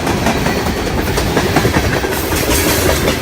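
A train passes on railroad tracks close by, a loud and steady rumble with continuous clickety-clack of wheels and no voices.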